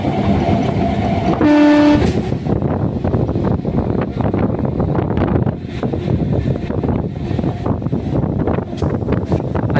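Lalgola MEMU special train 03143 running near Kalinarayanpur in West Bengal, with a loud horn blast early on and then steady, close rumbling clatter of the wheels over the rails throughout.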